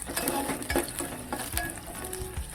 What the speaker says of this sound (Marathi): कांदा जरा लालसर होईपर्यंत भाजून घेणार. एक 2 मिनिटं कांदा भाजून घ्यायचा.